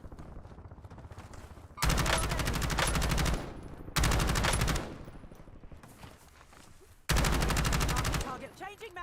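Bursts of rapid automatic gunfire in the video game Warzone come in three loud, close volleys, with quieter gaps and a player's voice between them.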